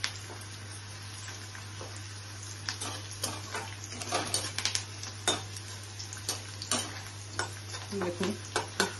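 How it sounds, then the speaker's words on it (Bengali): Onion and garlic fry in a pan while a spatula stirs them, with clustered scrapes and clinks over a soft sizzle and a constant low electrical hum, fairly quiet and close. "দেখুন খুব সুন্দর ফ্রাই হয়ে যাচ্ছে"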